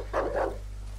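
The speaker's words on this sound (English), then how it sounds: "Oh, but there's a dog." A dog in the video game Dark Wood gives one short bark or yelp at moderate volume over a steady low hum.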